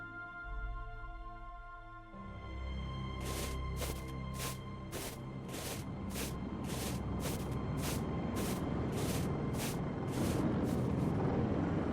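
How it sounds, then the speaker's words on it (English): A helicopter in the point-and-click game Lost Horizon 2 closes in as a steady low rumble that swells, with evenly spaced rotor blade chops emerging and growing louder over a drone-like hum, no voices. "Hey, do you hear that? Another helicopter."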